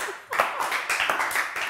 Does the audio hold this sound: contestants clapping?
yes